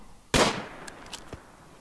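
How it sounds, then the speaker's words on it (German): A single sharp gunshot from the video game RimWorld cracks loudly and then decays quickly, followed by a couple of faint clicks and small impacts with no talk. "Das war doch mal ein Schuss."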